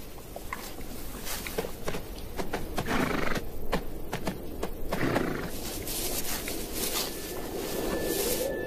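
Horses whinny and snort amid a steady outdoor rush of wind in dry African bushland, with scattered hoof thuds and movement throughout; the calls come from fairly close by.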